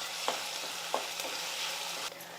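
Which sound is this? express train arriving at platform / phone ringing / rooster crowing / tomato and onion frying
tomato and onion frying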